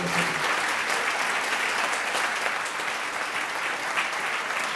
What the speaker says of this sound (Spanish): Para todos ellos un fuerte aplauso por compartir este día con nosotros